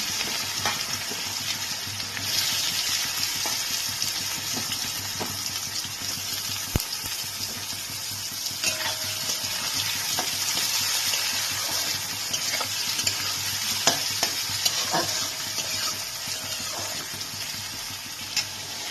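Chopped onions frying in a pan with eggplant for a katla fish head curry, a steady, moderate sizzle with occasional stirring clinks and scrapes, continuous and close, with no talking.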